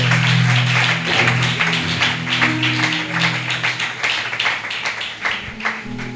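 A church congregation claps and cheers to acclaim the Lord, a dense, sustained wave of applause with rhythmic clapping throughout, over a low sustained musical drone.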